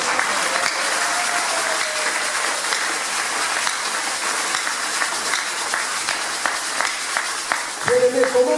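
A church congregation applauds to acclaim Jesus with sustained, dense clapping that fills the whole stretch, then a voice breaks in at the close.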